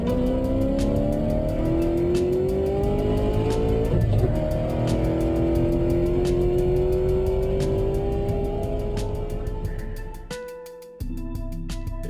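Model cars race around a track in a builder's open event, their motors whining in rising and falling pitch as a tight group passes, with faint ticking clicks and a brief drop near the end.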